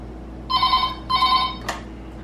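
A telephone rings on a prank call to order pizza. Two short electronic trills sound in quick succession, close and clear, and a brief click follows after them.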